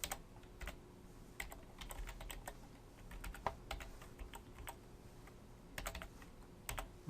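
Quiet, steady typing on a computer keyboard while code is written, with irregular clusters of soft key clicks and occasional louder taps, close up and without talk.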